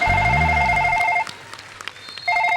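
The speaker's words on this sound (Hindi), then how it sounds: "बाहर फोन आ रहा है सिक्योरिटी वालों का।" A telephone rings loudly with a repeating electronic trill in two bursts separated by a short pause, alone without talk.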